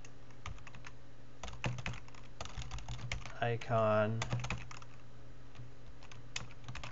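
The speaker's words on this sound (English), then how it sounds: "icon, and I'll keep typing." Computer keyboard typing in bursts of clicks throughout, with someone talking briefly over the keys midway through.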